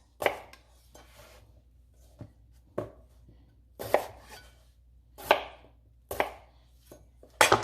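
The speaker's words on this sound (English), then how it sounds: "I'm going to go ahead and cut the potatoes in half" A knife chops potatoes into pieces on a board, giving about nine sharp, separate thuds spaced irregularly over a quiet background.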